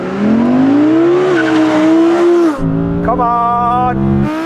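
An Audi R8 GT accelerates hard in a race, its loud engine note climbing steadily, dropping at a gear change, then rising again. Faint tyre squeal is mixed in, and a voice shouts briefly over it.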